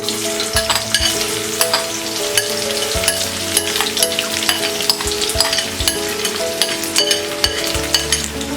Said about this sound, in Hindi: और इसे मीडियम फ्लेम में फ्राई करेंगे।